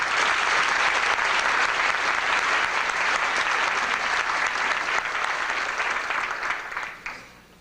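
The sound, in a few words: audience applause welcoming Dr. George Box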